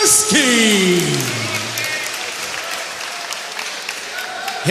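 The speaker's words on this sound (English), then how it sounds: "please make some noise for Mikolaj Bluzewski." A crowd at an MMA fight night cheering and applauding for a fighter being introduced, a loud dense wash of clapping and cheers under the announcer's ringing, reverberant voice, slowly fading over a few seconds.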